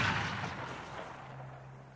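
A single gunshot blast from a dubbed western film opens loud and booming, then decays into a rumbling echo with a low hum underneath.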